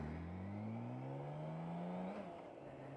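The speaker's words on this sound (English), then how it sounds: "That sounds like a car engine in a motorbike." A 2018 BMW K 1600 Bagger motorcycle engine revs up, its tone climbing smoothly and steadily for about two seconds before dropping back, loud and close with no speech.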